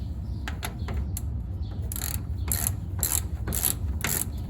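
A ratchet turns a 9/16 socket to tighten a nut on a ground wire on a Ford Model A. Several quick rounds of close, crisp clicking come in bursts over a low background hum.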